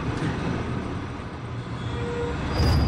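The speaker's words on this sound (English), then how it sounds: "This tram is bound for Nest." A tram in the video game Resident Evil 2 Remake rumbles steadily along its track with a low, continuous rolling drone, close and sustained, and a slight swell near the end.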